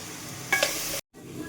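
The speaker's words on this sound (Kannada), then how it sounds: "ಈ ಕಡೆ ಪಲ್ಯಕ್ಕೆ ಒಗ್ಗರಣೆ ಆಗ್ತಿದೆ" Curry leaves, onion and green chilli paste hit hot oil for a palya tempering, giving a steady sizzle with a couple of stirring scrapes, close and alone before a brief cut.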